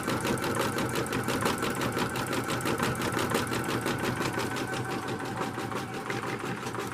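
A sewing machine runs at a steady pace after its bobbin thread has been replaced, giving a fast, even mechanical chatter of stitching that continues without pause, close and fairly loud.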